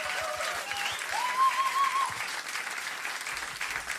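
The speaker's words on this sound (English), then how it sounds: "Applaudiert bitte auch für die Band, die sind der Wahnsinn." A live audience at a country music concert applauds the band, steady dense clapping filling the whole stretch with faint tonal sounds from the stage drifting over it.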